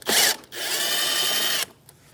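A power drill with a 7mm socket backs out a bolt from the inner fender liner of a 2016–2025 Chevrolet Malibu. It gives a short loud whir, then a steady close whine of about a second before stopping.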